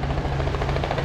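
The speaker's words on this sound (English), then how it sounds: "A helicopter ride high above Chicago." Sightseeing helicopter flying high over Chicago, a steady, loud rotor drone with a low thrumming pulse that holds constant throughout, with no talk.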